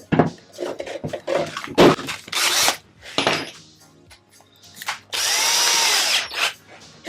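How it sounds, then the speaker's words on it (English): A power drill bores a 3mm hole in a Boba Fett costume gauntlet, with short whirring bursts and clicks followed by a longer, steady, close-up drilling run. "So as you can see, I'm drilling the hole before we attach this."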